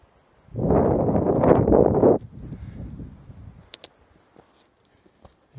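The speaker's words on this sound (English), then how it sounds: "it's getting very windy up here" Strong wind gusting across a microphone high on a Tehachapi mountain hiking trail near a drop-off, a loud roaring burst for about two seconds that drops to softer buffeting and a few faint knocks.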